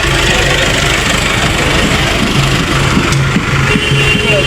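Several tractors idle together at a village gathering during Dussehra festivities, a loud, steady engine rumble with a low throbbing pulse that runs continuously throughout.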